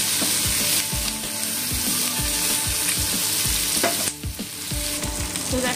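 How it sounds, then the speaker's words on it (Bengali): Broken fish heads fry with onion and tomato in hot oil, giving a loud, constant sizzle broken by regular rhythmic scrapes of a stirring spoon, close and without talk. "মাছের মাথাগুলোকে একটু ভেঙে দিয়েছি, পেঁয়াজ দিয়ে দিয়েছি, একসঙ্গে ভেজে নিচ্ছি।"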